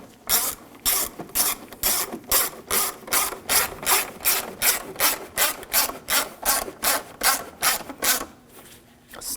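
A ratchet tightens screws on the water pump of a 2007-2013 BMW 328i with a 3.0L inline-six, making a close, even series of about twenty rasping clicks in a steady back-and-forth rhythm, alone without talk.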